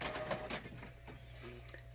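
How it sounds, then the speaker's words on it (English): An inkjet printer feeds and prints a sheet of digital cardstock, its mechanism whirring and clicking steadily at close range with a low motor hum underneath, no voices. "I'm just going to print it one more time so the back and the front are the same"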